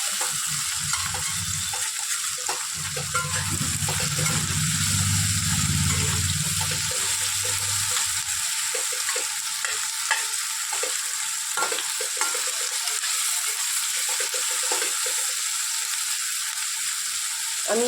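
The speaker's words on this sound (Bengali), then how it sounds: "পেঁয়াজগুলো দিয়ে আগে ভালো করে একটু খানিকক্ষণ ভেজে নেব।" Chopped onions frying in a pan, a sustained bright hiss and crackle with stirring and scraping throughout, a low rumbling hum in the first half, and no voices.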